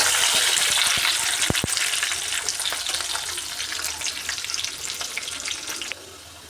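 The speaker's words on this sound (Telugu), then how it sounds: "ఒక ఉల్లిపాయ నాలుగు పచ్చిమిర్చి ఫ్రై చేసుకున్నాను" Onion and green chillies frying in a pan give a bright, close sizzle with a few sharp pops, fading slightly toward the end.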